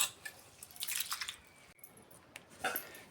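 Water drains off soaked rice for onion dosa batter in faint, scattered drips and soft trickling splashes, close by and quiet, with short pauses between bursts.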